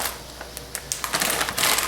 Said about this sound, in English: We're gonna crumple and crunch some potato chips over the top.